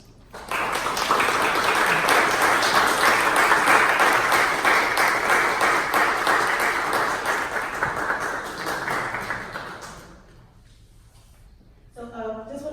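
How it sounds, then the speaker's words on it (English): The audience at a children's string summer camp finale gives a sustained round of applause to the director and conductor. Thick clapping holds steady for about ten seconds, then tapers off, and speech resumes at the end. "Everyone, please give a round of applause to the director"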